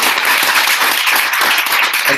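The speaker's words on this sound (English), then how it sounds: "just one last round of applause." A studio audience at a talk on the Fourth Industrial Revolution gives a sustained round of applause, dense steady clapping heard up close with no speech over it.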